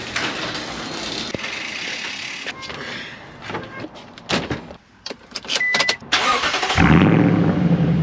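A car engine starting after interior clicks and rustling, then driving off with a steady engine and road rumble that gets louder at the end.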